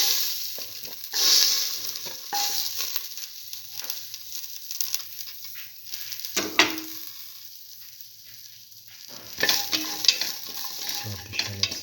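Shallots fry in a pan for a tomato and split pigeon pea stew. A soft, close sizzle runs underneath, with intermittent scraping and clinking as a utensil stirs them around.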